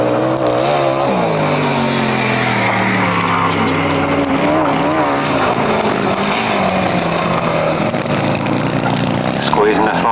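Grasstrack sidecar motorcycle engines at a 1991 Maidstone race meeting roar loudly out of a turn, their revs rising and wavering in continuous, overlapping snarls for the whole stretch.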